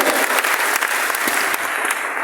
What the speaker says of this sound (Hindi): घनश्याम सर के लिए जोरदार तालियां चाहिए।